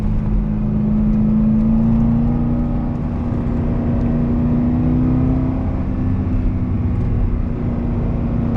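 A car accelerates hard and holds a steady, loud engine drone while cornering, a continuous revving tone rising slightly, with tire and road rumble underneath and no talking.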